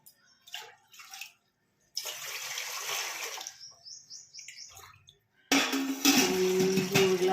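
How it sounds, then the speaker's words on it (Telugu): Water is poured into a bowl in short bursts, a splashy gushing stream that stops and restarts, ending with a louder, fuller pour close by. "3 గ్లాసులు వాటర్ పోసుకొని"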